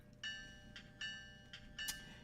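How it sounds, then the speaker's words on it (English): The bell on a GMD1 switching locomotive rings with several clear metallic strikes about every three quarters of a second, each one fading away, fairly faint and heard alone. "Get the bell on."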